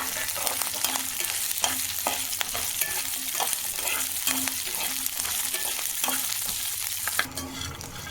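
Green chillies and peanuts frying in a pan for a ridge gourd and tomato chutney, a continuous close sizzle with rhythmic spatula stirring and tapping throughout.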